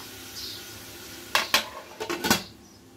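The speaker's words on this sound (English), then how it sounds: "Stir it well." Metal spatula scraping and clanking against a pan as cabbage with salt and turmeric is stirred, a quick series of sharp close knocks after a quiet start.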